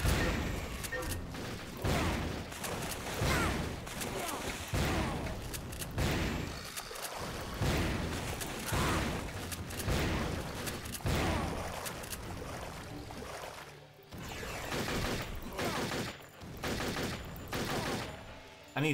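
A shotgun in Turok 3 booms again and again, each loud, close blast spaced about a second apart with short decaying tails, keeping an uneven rhythm across the whole stretch.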